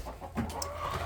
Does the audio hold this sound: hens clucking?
yes